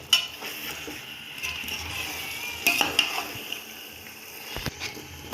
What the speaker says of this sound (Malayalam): വീണ്ടും നല്ലതുപോലെ ഇളക്കി യോജിപ്പിക്കുക